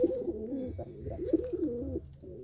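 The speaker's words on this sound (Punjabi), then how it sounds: "ਇਹ ਕਬੂਤਰ ਜਿਹੜਾ ਬਾਪੂ ਨਿੰਗ ਘਰਾਂਗਣਾ ਦੀ ਜਿਹਦੇ ਘਰੋਂ ਆਇਆ ਹੋਇਆ ਆ" Soft, throaty pigeon cooing repeats in low rolling phrases, close by, with a faint background hum and no talking.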